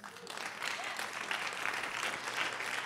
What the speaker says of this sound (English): I'm getting claps in the minute